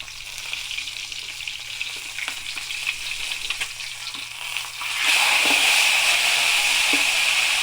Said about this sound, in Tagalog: Prito ko